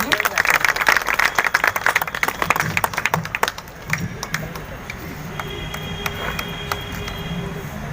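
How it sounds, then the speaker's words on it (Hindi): Applause from a seated crowd greets a guest at a Brahma Kumaris birthday celebration, with sharp, irregular hand claps that are loud at first and then thin out, while a voice continues speaking. "तालियों से स्वागत करेंगे।"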